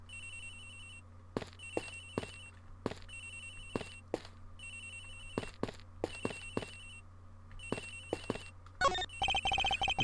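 A cell phone rings in the Ace Attorney Investigations video game, a repeating electronic ringtone melody in short bursts over a steady low hum, getting louder and busier at the end.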